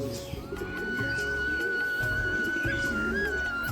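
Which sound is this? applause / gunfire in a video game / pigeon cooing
pigeon cooing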